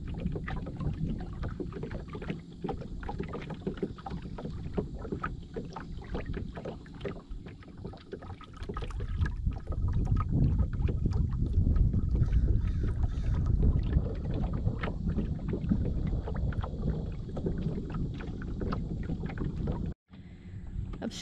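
Kayak paddling across calm, shallow reservoir water, soft rhythmic splashes and hull noise under steady wind buffeting the microphone, continuing throughout with a brief dropout near the end.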